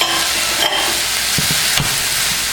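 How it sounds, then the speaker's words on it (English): Chicken fried rice is stir-fried with vegetables and chicken in a loud, close, steady sizzle, broken by a few scraping stirs of the spatula. "now all you want to do is break up the rice and mix it with the vegetables and the chicken"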